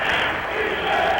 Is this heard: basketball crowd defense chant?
yes